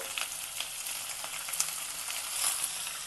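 Sliced onion frying in a pan for a Vidarbha-style khichdi masala makes a soft, continuous sizzle with faint stirring scrapes, close but fairly quiet, and nobody speaks.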